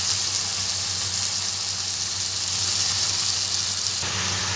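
Spice paste for a bottle gourd and prawn curry sizzles steadily in a hot pan, a loud continuous frying hiss with no pauses and no voices.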